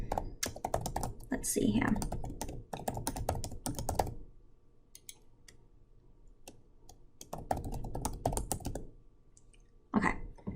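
Rapid clicking of computer keyboard keys as a password is typed, arriving in bursts with a pause in the middle, close and clear, while a person speaks briefly over it.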